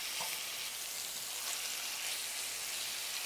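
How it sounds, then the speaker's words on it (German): Chicken pieces sear in a Dutch oven with a loud, dense hiss of fat that stays steady and continuous, close-up and with no voices. "Jetzt grillen wir unsere Hähnchen an."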